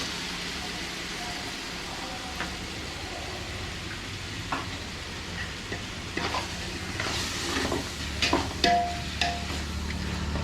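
Tomatoes, about 400 grams, sizzle and fry in a pan while being stirred for a chicken dum biryani, a steady crackling hiss with scattered scraping and clattering taps growing busier toward the end.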